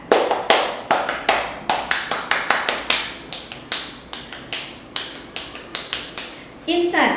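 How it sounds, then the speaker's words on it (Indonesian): Fifth and sixth grade scouts clap the tepuk pramuka pattern together: sharp, crisp group claps in a quick, syncopated rhythm with short pauses, ending with a brief shouted voice. "Dua kali tepuk pramuka."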